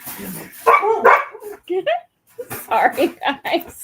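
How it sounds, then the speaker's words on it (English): Dogs barking indoors, several short yips and barks mixed in among a person talking nearby, close and moderately loud. "sorry about the dogs barking"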